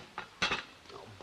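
Pans clattering and clanking as they tumble out of a kitchen cupboard in a 1968 sitcom scene: a short metallic clink, then a louder crash of pots about a second long.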